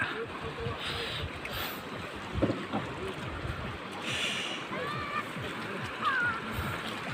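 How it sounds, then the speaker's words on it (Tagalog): Wooden boat on low-tide water with steady wind rumbling across the microphone, soft engine-like drone and splashing beneath, while people chat nearby. "Dito na kami sa bangka"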